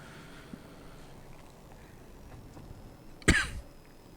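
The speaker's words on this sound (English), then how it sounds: "And I've also got this stupid cough still." A single short, sharp cough breaks a quiet room tone near the end, preceded by faint shuffling.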